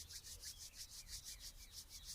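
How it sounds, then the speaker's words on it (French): Hands rub gently together with the fingers sliding between one another, a soft, close, rhythmic swishing repeated about a dozen times at an even pace in a quiet room. "nos mains maintenant de se frotter doucement par les doigts"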